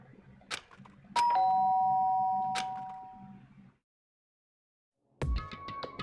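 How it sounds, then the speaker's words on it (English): A doorbell rings in the Danganronpa: Trigger Happy Havoc video game, two bright chiming tones that ring out and fade, then after a silent gap a further chime and game sound begin. "did I hear the doorbell?"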